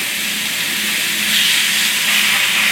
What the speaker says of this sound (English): I'll start throwing these on over here in the skillet